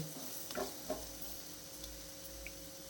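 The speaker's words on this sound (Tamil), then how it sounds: "கோவைக்காய் வந்து ஓரளவுக்கு வதங்கிடுச்சு" Ivy gourd sautés in a pan with a faint, even sizzle and hiss, broken by two brief stirring scrapes early on; quiet and close, no speech.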